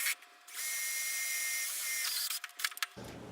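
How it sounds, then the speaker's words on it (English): A worn drill bit bores into metal on a Harbor Freight mini mill, a steady high whine of about two seconds that ends in a few stuttering bursts before the spindle winds down. "that drill bit's just about had it."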